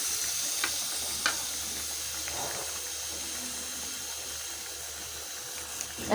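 Chicken with pre-boiled cabbage fries in a pan, giving a steady, quiet sizzle with occasional faint clinks and stirring sounds, close up and without talk.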